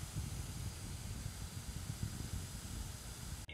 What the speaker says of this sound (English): The fan on the Steam Deck can get a little loud.